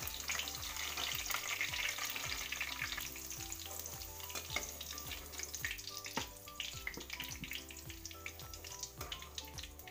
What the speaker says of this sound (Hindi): आलू अच्छी तरह से फ्राई हो चुका है।